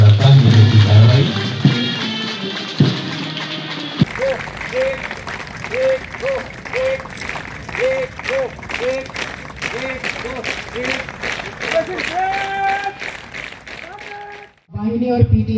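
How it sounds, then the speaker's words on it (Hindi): Platoon clapping in unison at a police parade, sharp rhythmic claps repeating steadily for about ten seconds amid brass music and announcer talk, ending with a short pause. "चार नंबर प्लाटून कमांडर द्वारा तालियां की कार्रवाई।"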